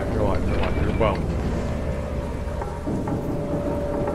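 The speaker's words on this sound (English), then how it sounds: "Like it's raining like that." Rain pours steadily during a thunderstorm, with rumbling thunder under the downpour and excited voices talking over it.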